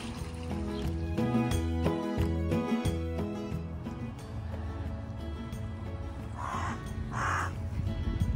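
Angry crows caw loudly and repeatedly near a tree, their harsh calls dominating over a steady outdoor background with no one speaking.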